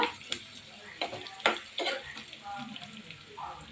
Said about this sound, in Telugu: పచ్చట్లో మనం రెండు ఎండుమిరపకాయలు రెండు లేదా మూడు ఎండుమిరపకాయలు వేసుకుని